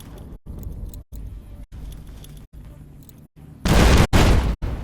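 Grenade explosions in Fallout: New Vegas land as dense bursts with short silent gaps between them, the loudest one booming late.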